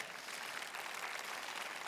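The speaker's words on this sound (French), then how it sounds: "Voulez-vous applaudir l'Esprit de Dieu avec moi ce matin?" A church congregation applauding during a morning service: a faint, even wash of clapping from a distant crowd, continuous with no talk over it.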